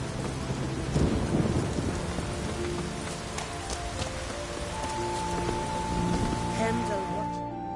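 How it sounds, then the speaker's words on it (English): A thunderstorm in the Witcher 3 video game: steady heavy rain hisses across surfaces while a deep roll of thunder rumbles early on, and a sustained musical tone enters toward the end. "Storm, damn it."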